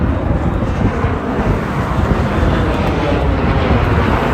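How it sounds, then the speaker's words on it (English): An airplane passes overhead above steady freeway traffic, a dense continuous low roar and rumble with wind buffeting the microphone throughout and no talk. "Freeway traffic and a plane going overhead isn't good."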